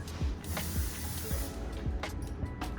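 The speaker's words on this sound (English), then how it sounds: "I like spraying a little bit of hairspray first" Short hissing sprays from a hairspray can repeat in quick succession, close and fairly loud, with no voices.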